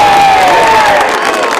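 A local Australian rules football crowd at Mernda versus Panton Hill in 2012 roars and cheers a goal in a loud burst of mixed shouting and whoops that eases slightly toward the end.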